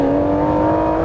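A car engine holds at high revs near its limiter, a sustained loud tonal whine with no voices.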